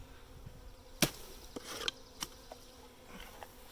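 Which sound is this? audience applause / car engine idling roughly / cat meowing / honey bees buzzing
honey bees buzzing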